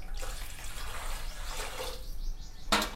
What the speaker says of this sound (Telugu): ఇప్పుడు నేను 3 గ్లాసుల వాటర్ అయితే పోస్తాను.